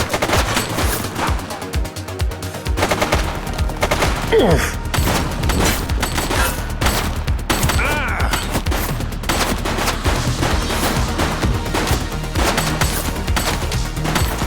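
Dense, sustained gunfire in a shootout in the police video game The Precinct, rapid automatic bursts and single shots cracking continuously and loudly over about fifteen seconds, with occasional booms and faint voices mixed in.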